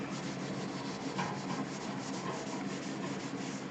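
Steel wool with WD-40 rubs back and forth over a vintage Honda motorcycle header pipe, a steady close-up scratchy scrubbing that continues without pause.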